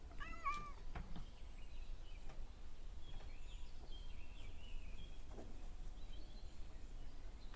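A small cat meows at a door, giving a few short, faint mews near the start and later, with light bird chirps in the background of a quiet outdoor-sounding space.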